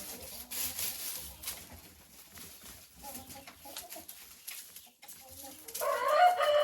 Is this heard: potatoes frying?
no